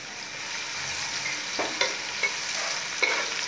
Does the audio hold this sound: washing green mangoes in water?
no